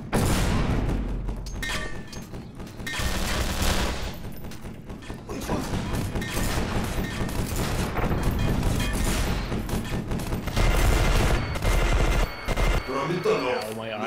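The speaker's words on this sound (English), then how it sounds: "The hunting machine is like the weird futuristic M1 Garand. It just has really good bullets." Gunfire from the hunting machine rifle, a futuristic M1 Garand–style weapon in EYE Divine Cybermancy, crackles in heavy repeated bursts mixed with booms and other game combat noise, loud and continuous, with people talking at times.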